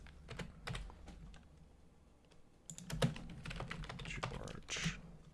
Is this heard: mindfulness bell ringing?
no